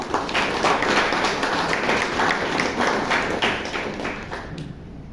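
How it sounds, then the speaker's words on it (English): Steady round of applause from a seated audience at a Toastmasters club meeting in Bangalore, dense clapping sustained for several seconds before tapering off at the end. "Round of applause"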